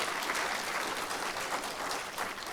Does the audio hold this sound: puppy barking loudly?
no